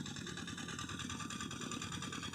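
A walking tractor works a rice paddy, its engine chugging in a steady, rhythmic idle-like throb with a rattling, vibrating tone that holds constant at moderate distance.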